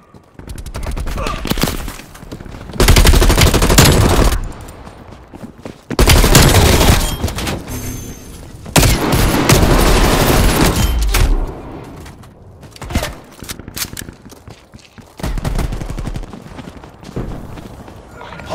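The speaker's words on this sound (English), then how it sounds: "Enemy sniper shooting." Gunfire in the Call of Duty Black Ops Cold War video game during a Hardpoint match, loud bursts of shots in several long volleys separated by quieter pauses, with some voices in between.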